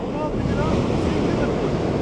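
Sea waves breaking on the shore at Karasu beach during fishing, a steady close roar of surf with wind buffeting the microphone, continuous and loud throughout.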